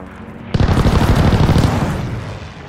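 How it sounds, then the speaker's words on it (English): Aircraft strafing-run gunfire in the Call of Duty: Vanguard Casablanca multiplayer map: a sudden loud, dense burst of rapid shots and booming impacts that begins abruptly and rolls on for about two seconds before easing off. "Hostile strafe inbound!"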